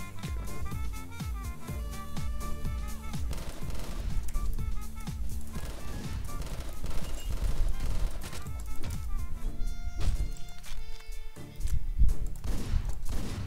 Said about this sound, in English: this is supposed to be like a Remington shotgun